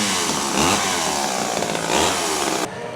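A chainsaw engine revs loudly, its pitch rising and falling in two surges before cutting off abruptly near the end.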